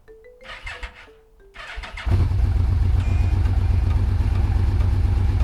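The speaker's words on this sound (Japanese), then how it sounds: "エンジンをかけてみましょう。" A starter motor whirs briefly, then a Yamaha Vmax 1200 motorcycle engine, started without choke, catches and settles into a loud, steady, throbbing idle close by.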